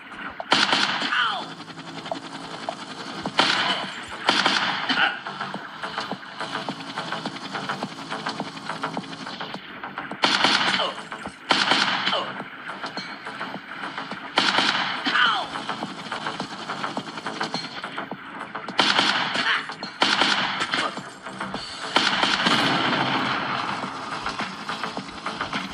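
Gunfire from a newly bought rifle in a mobile sniper shooting game, arriving as repeated sharp bursts spaced several seconds apart over a constant mechanical background drone, no speech audible.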